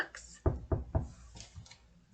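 Three sharp knocks in quick succession, loud and close, followed by a few fainter taps, with no talking over them.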